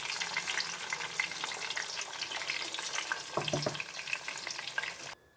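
Fish curry gravy poured into a hot pan sets off a loud, steady sizzle and crackle of frying that runs without pause, with a brief clatter partway through before it cuts off abruptly at the end.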